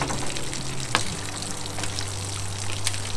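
Water rushes steadily from the black tank flush of a Brinkley G3500 toy hauler, a continuous hissing flow with a low hum beneath and no voices.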